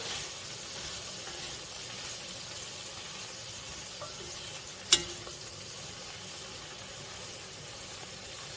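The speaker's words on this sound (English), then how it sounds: "I'm just going to move them around so that they can all get coated in our oil" Collard greens being stirred in hot oil in a pan give a steady, soft sizzle throughout, with one brief sharp clink of the utensil midway.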